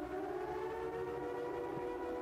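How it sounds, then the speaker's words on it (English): A steady wailing siren drones on without pause, its sustained tones holding loud and even throughout, with no voices over it. "It is the siren."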